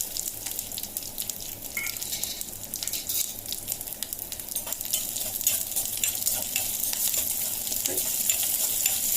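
Small shallots fry in a pan with curry leaves for black chickpea curry, giving a continuous crackling sizzle with brisk stirring and occasional metallic scrapes, close and fairly loud.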